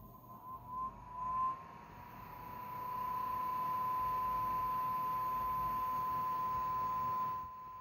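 A loud AliExpress CPU cooler fan on an AM4 system, caught on a smartphone, rises after a couple of seconds into a steady, close whirring hiss with a thin, high whine held throughout.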